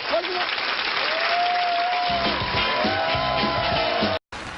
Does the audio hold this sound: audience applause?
yes